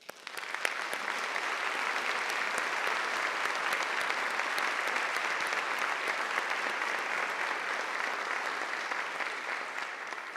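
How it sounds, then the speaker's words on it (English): Convocation audience at GSU applauds in a large hall, a dense, sustained wash of many hands clapping at an even level for about ten seconds, with no talking over it. "Faculty Excellence Award winner David Ray, to rise and accept our applause"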